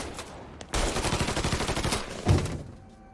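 Rapid gunfire from a shootout in the Mafia III: Definitive Edition video game, a sustained burst of automatic fire with evenly spaced shots for over a second, followed by a heavier blast.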